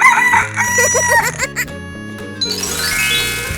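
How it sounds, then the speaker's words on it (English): A cartoon rooster crows cock-a-doodle-doo in a 3D animal slide video game, loud and close, followed by bright chiming game music. "Chicken."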